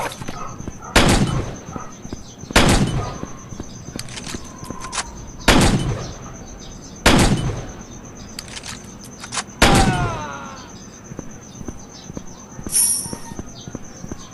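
Gunshots ring out in the West Gunfighting video game: five loud, evenly spaced single shots with reverberant tails, set over a steady high tone, with a faint voice now and then.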